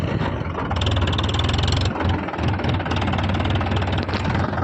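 A tractor engine runs close by with a loud, steady, throbbing diesel chug that dips briefly before settling back into its rhythmic idle.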